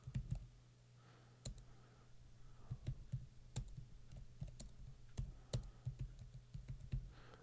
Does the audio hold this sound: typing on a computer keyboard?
yes